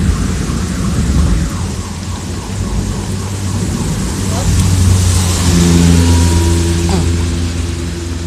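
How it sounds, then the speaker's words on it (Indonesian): Heavy downpour during a thunderstorm in Purwokerto, a steady loud roar of rain with low rumbling thunder and passing traffic, people talking faintly underneath. "Untung hujan."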